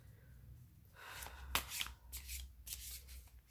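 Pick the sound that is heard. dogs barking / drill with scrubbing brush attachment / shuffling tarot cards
shuffling tarot cards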